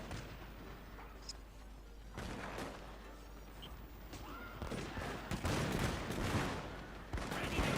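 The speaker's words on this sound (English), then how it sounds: "every single gun in these regiments is firing already" Massed musket regiments in the Total War: Shogun II Fall of the Samurai strategy game fire ragged volleys, a dense crackle of overlapping gunshots and booms that swells louder toward the end, with no talking.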